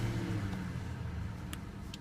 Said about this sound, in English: To start it up, you stick the key in and then you hit the button.